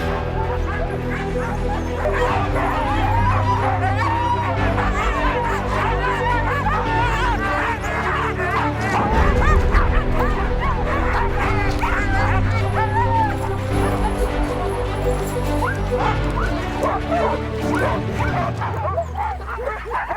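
A pack of Siberian sled huskies in the Swiss Alps barking, yipping, whining and howling together before a sled run, a continuous close chorus with a music-like bed underneath for the full duration.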